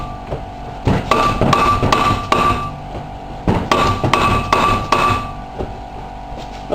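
Hammer blows during wheel bearing replacement on a car, bursts of sharp metallic strikes in quick clusters with short pauses between, close and ringing.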